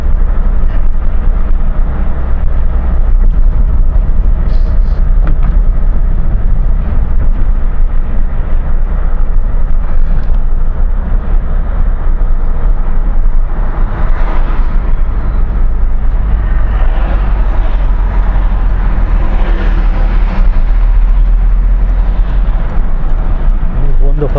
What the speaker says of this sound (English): A lot of road noise.